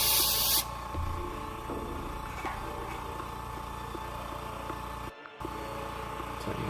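Airbrush spraying metallic paint over black on a miniature, a short loud hiss at the start, then a quieter steady airflow hum with small mechanical clicks and a brief cutout.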